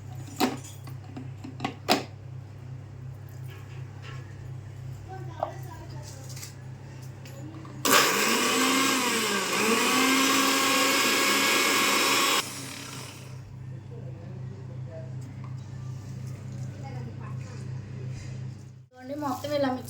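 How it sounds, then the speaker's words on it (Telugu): A mixer grinder (mixie) grinds tamarind for pickle in one loud, steady whirring burst of about four seconds, set against a constant low background hum with quieter kitchen noises before and after. "మొత్తం ఇలా మిక్సీ పట్టేసుకోవాలి."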